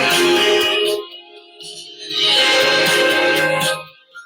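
Music plays through a homemade Bluetooth speaker built inside an LED bulb, a continuous fairly loud mid-to-bright sound with swelling and dipping passages, heard close with no talking over it.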